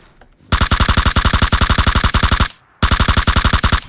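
Automatic M4 rifle fire in PUBG, loud rapid bursts of evenly spaced shots, a long two-second stream followed by a brief gap and another sustained burst, close and dominant with no talk.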